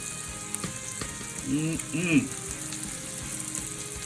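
Shrimp sautéing in a pan for a spicy Indian shrimp and red lentil bowl, a steady moderate sizzle with a few brief louder bursts and a short tonal squeak over the frying.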